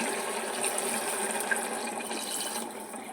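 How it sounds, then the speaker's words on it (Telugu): Water pours steadily into a pressure cooker of mutton gongura curry, a soft continuous splashing gush that tapers off slightly at the end. "ఇప్పుడు మనం వాటర్ వేసేద్దాం"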